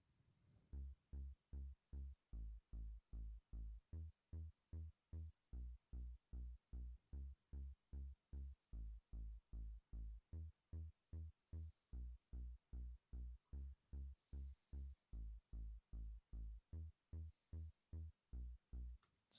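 Sub-donk bass from a self-made dance track, a deep pulsing hit repeated rapidly and evenly for many beats, throbbing and low, alone without voices.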